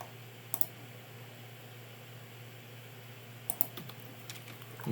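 Computer keyboard keys, escape and spacebar, are pressed in two quick pairs of sharp clicks a few seconds apart, close and crisp over a quiet room hum.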